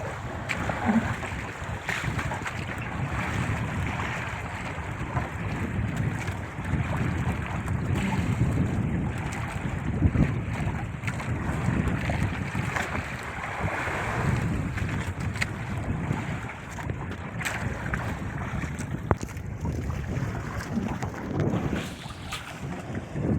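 Strong wind roars across the open sea around a fishing boat, a loud, continuous rushing buffet with water wash and low rumble throughout.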